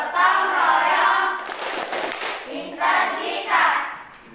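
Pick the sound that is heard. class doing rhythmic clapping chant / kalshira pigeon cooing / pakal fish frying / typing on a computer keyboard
class doing rhythmic clapping chant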